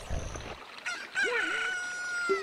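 A rooster crows in the video game Ocarina of Time: one cartoonish cock-a-doodle-doo with a rising then falling squawk, ringing clearly over a bright game-music backdrop.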